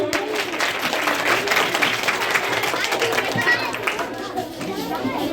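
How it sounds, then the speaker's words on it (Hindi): Loud applause and clapping from a crowd at a primary school annual function and parent-teacher meeting, steady and dense throughout, with children's chatter and voices mixed in. "जोरदार तालियां हो जाए।"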